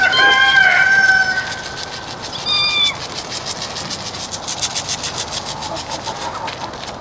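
A farm chicken flock on a cold morning, with a loud close crow or squawk at the start, a shorter call a moment later, then steady quieter clucking and rustling in the background.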